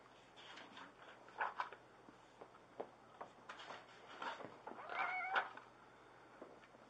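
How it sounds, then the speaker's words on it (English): Cat meowing several times indoors, short faint cries close by over a quiet room, alone without talk. "my cat's trying to get in the picture"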